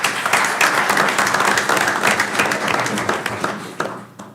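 A meeting room crowd at a board of trustees meeting gives loud, sustained applause, with dense overlapping claps throughout that taper slightly at the end.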